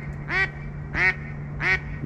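Mallard ducks quack three times at evenly spaced intervals before shooting light on a duck hunt, clear loud calls over a faint steady hum.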